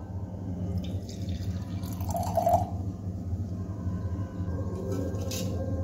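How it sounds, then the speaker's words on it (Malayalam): Beetroot juice is poured into a glass, making a soft liquid trickle that swells briefly midway, heard close over a steady background hum with no talk. "ഇനി ഞാനകത്ത് കുറച്ച് ബീട്രൂട്ട് ഒഴിക്കുകയാണ്."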